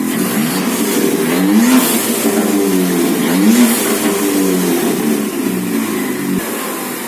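A Ford Mustang with the 2.3 EcoBoost four-cylinder engine revs repeatedly, rising and falling in several throttle blips that sound close and loud, with no one talking over it.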